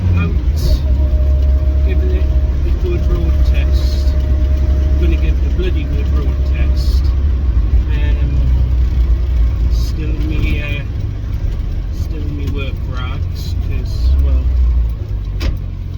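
Car on a road test after a distributor repair, its engine and road rumble loud and steady throughout, with people talking over it inside the cabin.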